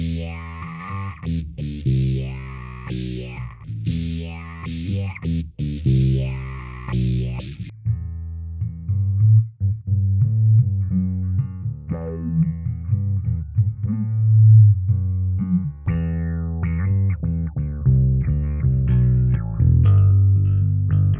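Bass guitar through an MXR bass envelope filter pedal gives a vowel-like, robotic vocalizer sweep on each note, loud and upfront. Plucked lines grow deeper and more sustained later, with no talking.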